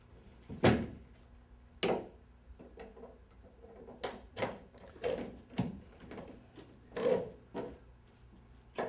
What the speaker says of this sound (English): You'll use your Allen wrench, tightening it down so it holds it into position.